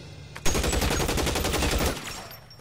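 Rapid automatic gunfire from L.A. Noire Remastered erupts suddenly and rattles in a dense, loud burst for about a second and a half before cutting off.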